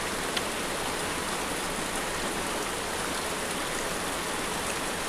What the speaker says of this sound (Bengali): তবুও এই যা বৃষ্টি হচ্ছে দুজনাই ভিজে যাবে মনে হচ্ছে।